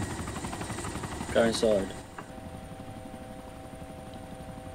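A Mi-24 helicopter in the game ArmA 2 drones steadily with a constant rotor and engine hum throughout, while a voice speaks briefly over it.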